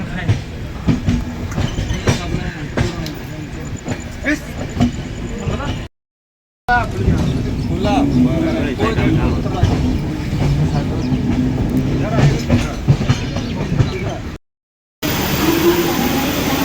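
Train at Delhi railway station, a loud continuous rumble with rhythmic clatter and rattling carriage noise, briefly cutting out twice, with voices mixed in.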